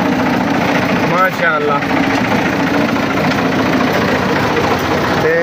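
Tractor engine driving a thresher among trees in the fields, a loud steady low drone with continuous mechanical rumble throughout, a voice speaking briefly over it.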